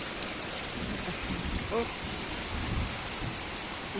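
Heavy rain pours down steadily and close by, a dense hiss of drops on surfaces, with a low rumble of thunder rolling in faintly partway through.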